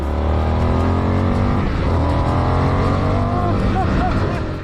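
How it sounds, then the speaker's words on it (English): A 2023 Indian FTR 1200 Sport V-twin motorcycle revs loudly and close through its stock exhaust, a steady deep throaty drone with harmonics rising and falling as the throttle swells, filling the whole stretch. "I love that sound of the stock exhaust on this bike."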